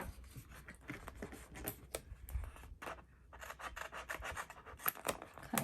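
Scissors slice through paper while a creative journal is set up, with a steady run of close, raspy snips and rustles and short pauses between cuts, and no speech.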